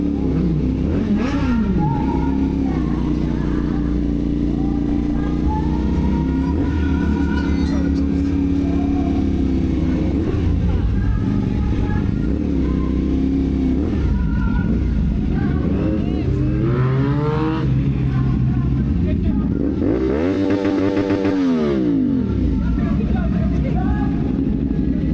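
A Yamaha R1 superbike at a motorcycle anniversary meet in a garage, with rain-soaked roads, idles with a low engine drone before a sharp rev rises and falls near the end; people talk over it throughout.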